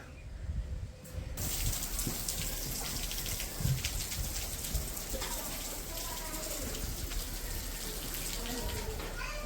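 Rain falls steadily while strong wind blows during a monsoon power cut, a constant wash of drops and gusts with a few louder splashes early on.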